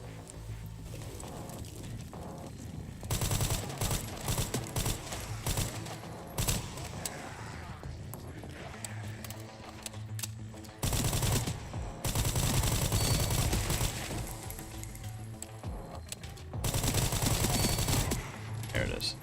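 Machine gun fire rings out in the Resident Evil Requiem video game in loud sustained bursts separated by quieter gaps, with game sounds and occasional voices in the background.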